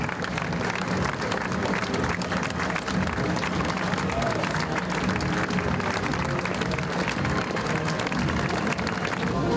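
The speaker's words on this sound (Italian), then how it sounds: "L'applauso per la sfilata dell'unità interforze accompagnata dalla banda musicale" An outdoor crowd in Treviso applauds as a joint armed forces unit parades past with the town band, producing continuous, loud, dense clapping with a rumbling crowd bed underneath.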